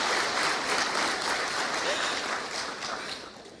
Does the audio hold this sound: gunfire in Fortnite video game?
no